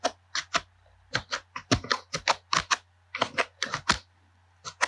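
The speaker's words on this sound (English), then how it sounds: "Then you type out doc type." Keys on a computer keyboard are typed in quick bursts of sharp, close clicks with short pauses between them, over a low steady hum and with no talking.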